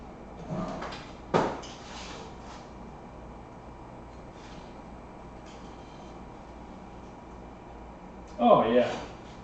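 Kitchen drawers being pulled open and pushed shut during a search for a thermometer, a few distinct wooden thumps and slides spaced across the stretch, with a voice talking in between.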